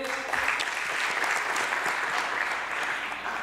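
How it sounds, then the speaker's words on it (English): An audience at a ministerial government event claps warmly in a steady, dense burst of applause that fades slightly toward the end, with no talk over it. "A warm round of applause to Neville."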